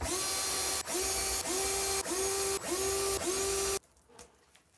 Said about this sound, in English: And then you can drill your pilot hole.